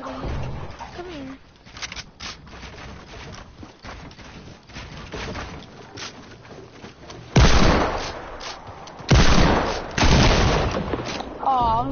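Fortnite gunfire rings out in scattered shots and two loud sustained bursts of heavy firing, mixed with game sounds and players talking over the action.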